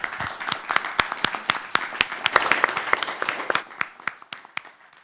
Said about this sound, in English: but first a round of applause